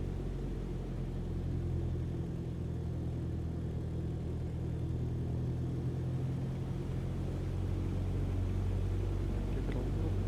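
A light aircraft engine idling in Microsoft Flight Simulator on approach to land in Svalbard, a steady low droning rumble that holds even and unbroken throughout at moderate, fairly quiet level, with no talk.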